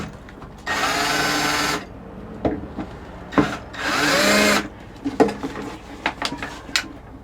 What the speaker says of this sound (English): So I'm going to drill some 3/16 holes for the top and bottom.